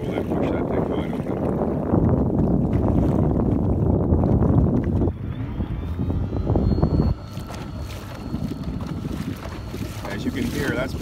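An Echo 58V electric outboard motor runs wide open on a kayak out on the water, its quiet whir mostly buried under heavy wind buffeting and water rush, with the wind noise dropping partway through.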